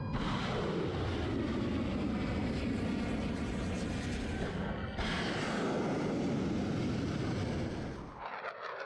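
Military jets of the Black Aces squadron launching alongside Tomahawk missile launches, a loud sustained roaring rush that swells and renews midway before cutting off near the end.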